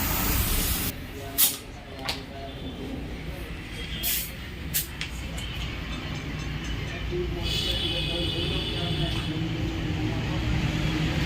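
Compressed air blows steadily onto a motorcycle wheel bearing, likely on a Royal Enfield Bullet 350 with alloy wheels, giving a continuous loud hiss with a few sharper bursts early on, while someone speaks faintly underneath.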